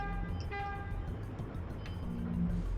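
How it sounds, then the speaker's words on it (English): A vehicle horn honking in the video game Shenmue, a tonal blast near the start over a steady engine-like rumble, with a second lower horn tone toward the end. "Honk the horn, you see, because that would have been a collision."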